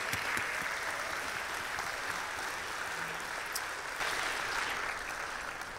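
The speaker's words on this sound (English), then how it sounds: "Could we give them a round of applause, please?" Steady, sustained applause from a gala awards ceremony audience, a dense even wash of many hands clapping that fills the room at moderate distance without letting up.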